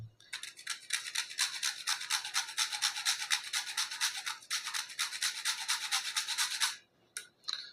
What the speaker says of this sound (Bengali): এবার এই জায়ফলটাকে অল্প করে এই গ্রেটারের সাহায্যে একটু গুঁড়ো করে দিয়ে দেবো।